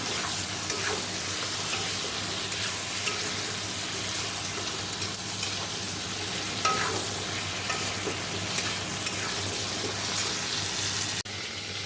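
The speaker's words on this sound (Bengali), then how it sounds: "সিমটা আগে ভেজে নিচ্ছি" Flat beans sizzle and crackle in a hot pan, with occasional scraping stirs against the metal, close and continuous throughout.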